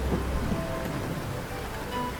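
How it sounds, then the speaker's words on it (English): Rain begins falling on dry, parched earth in the wild, a steady soft patter spread evenly across the clip, with a low rumble underneath and no voices. "The first raindrops fall,"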